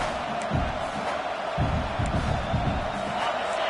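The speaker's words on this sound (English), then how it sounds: "this crowd is fired up. Listen to this noise here." A loud, continuous roar from a large American football stadium crowd, cheering and shouting together in a dense wash of noise.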